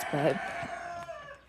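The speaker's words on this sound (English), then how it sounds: "that's a rooster who is inside" A rooster kept inside on a farm crows once early on, a clear rising call at moderate distance, followed by faint clucking-like bird sounds over steady background noise; a voice speaks briefly.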